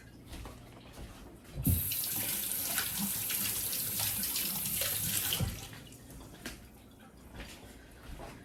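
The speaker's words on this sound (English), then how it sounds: "Let me wash my hands." Tap water runs steadily for about four seconds as hands are washed under it in a home kitchen, with a sharp onset and cutoff and quiet room sound before and after.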